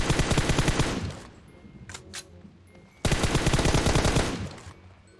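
Automatic gunfire rattles in the mobile video game PUBG Mobile: two long, loud bursts of rapid shots separated by a quieter gap with a couple of brief sharp cracks.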